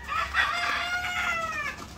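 A two-year-old rooster crows among clucking white laying hens in a backyard coop, the calls rising and falling over a soft, steady farmyard background with no talking.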